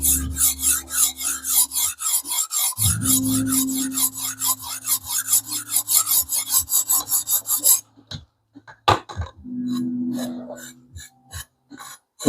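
A knife blade rasps against a sharpening stone in repeated sweeping strokes toward the tip, a steady rhythmic scraping up close that pauses, then resumes in shorter strokes with a low hum underneath.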